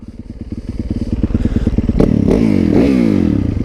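A motorcycle engine revs up from a lumpy, pulsing idle into a rapid, loud brap with rattling clatter, close by and filling the whole moment without any talking.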